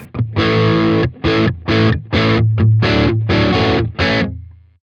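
Electric guitar through the Odin amp simulator with slight overdrive, a series of about eight loud rhythmic chord stabs separated by short gaps, the last chord ringing out alone.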